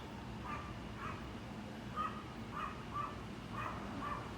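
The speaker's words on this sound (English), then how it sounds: "look at the dog barking at me from the window" A dog barks repeatedly from a distance, from a window, sharp yelps in an uneven rhythm over faint background noise.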